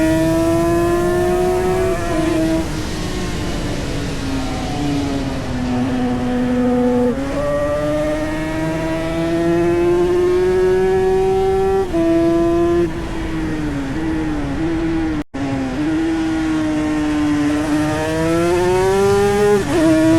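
A Yamaha TZ 350 two-stroke race motorcycle screams around Snetterton, its high-pitched engine rising and falling steadily through repeated gear changes, loud and sustained for the whole stretch.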